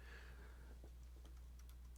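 Keys tapped on a computer keyboard while entering a search into a web browser, a few faint, scattered clicks against a steady low hum.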